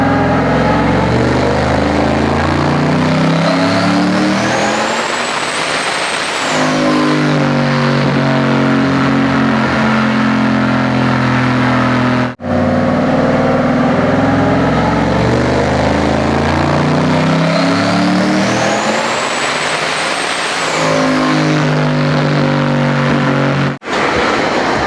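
A single turbo white Chevrolet Silverado truck with a misfire revs loudly and steadily, its turbo whistle rising and falling as the engine climbs, the same pull heard twice in a row with no voices.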